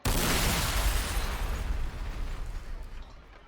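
A battle cannon firing and exploding in the Warhammer 40,000: Sanctus Reach strategy game, a single loud, close blast that decays into a long rumbling tail.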